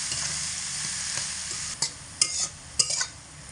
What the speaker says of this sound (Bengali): এই সব কিছু দিয়ে মিডিয়াম আঁচে রেখে খুব ভালো করে এগুলোকে ভাজা ভাজা করে নেব।